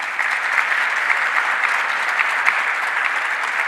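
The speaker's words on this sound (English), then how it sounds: "Let's give him another round of applause." An audience applauds continuously at a governor's announcement event in Rochester, a dense, steady wash of clapping from a large crowd, loud and sustained without breaks.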